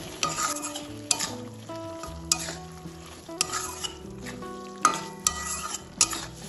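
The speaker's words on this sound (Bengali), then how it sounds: "পটলটাও সব মশলার সাথে ভালোভাবে কষিয়ে নেব।" Fried pointed gourd turned with spices in oil over medium-low heat: a continuous sizzle punctuated by regular sharp scrapes and taps of a spatula on the pan, close and clear, with no voices.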